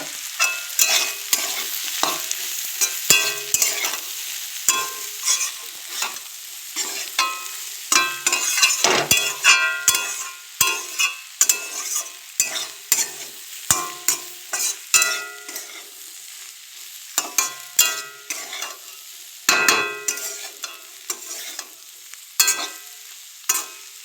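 Onions fry with turmeric in hot oil in a pan, sizzling steadily while a spoon scrapes and stirs in frequent irregular strokes, close and fairly loud, with no talking.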